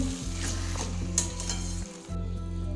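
Fish heads fry in a pan over a medium-low flame, an even close sizzle with a few clinks of a utensil and a low steady hum running underneath.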